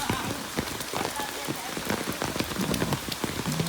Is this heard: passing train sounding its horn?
no